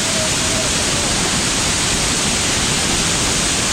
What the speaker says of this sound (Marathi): हा बघा आता धबधबा आवाज येत असेल काय माहीत नाही, कारण पाण्याचा आवाज खूप आहे